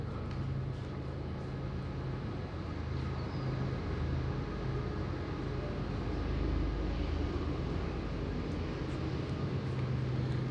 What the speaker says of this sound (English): you can hear the trains going by at all times here.